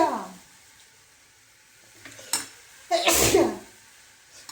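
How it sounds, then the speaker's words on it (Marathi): Sharp sneezes from a cook preparing a spicy dish of dill greens with hot green chillies, one burst near the end preceded by shorter breathy fits, close and fairly loud over a quiet kitchen with faint sizzling. "एवढे शिंकायला लागले."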